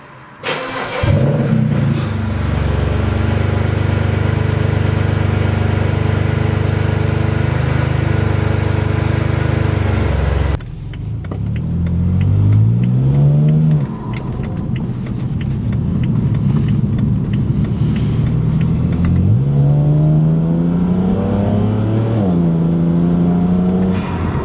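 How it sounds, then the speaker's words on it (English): Cold start of a BMW with a newly fitted exhaust: the engine catches and settles into a loud, steady idle, then revs rise and fall in several close, throaty pulls, with no talk. "the exhaust is fully done"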